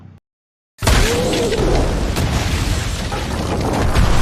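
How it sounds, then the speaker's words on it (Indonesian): A horse carriage explodes in a film scene, and after a short silence a sudden loud boom opens into a dense, roaring rumble that stays heavy and continuous to the end. "kereta kuda yang ditunggangi Paseri meledak"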